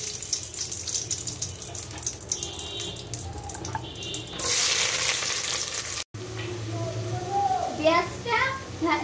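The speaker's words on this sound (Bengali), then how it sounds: "এরপর দিয়ে দিব পেঁয়াজ কুচি" Chopped onion hits hot ghee already holding cardamom, cinnamon and bay leaf for beef biryani, bursting into a loud hiss that settles into steady crackling sizzle, with stirring and a brief running tap beforehand.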